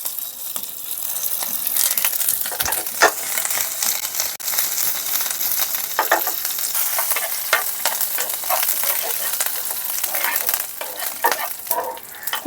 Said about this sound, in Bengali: একটু ভাজা ভাজা করে নিলাম।